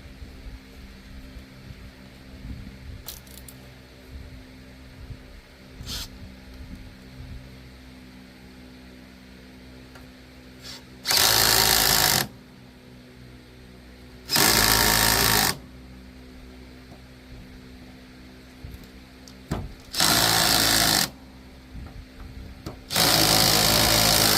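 A power tool being worked on a Craftsman Z8400 Pro Series mower deck with its torque set to maximum, sounding in four loud, sustained bursts of about a second each, separated by pauses over a low background hum.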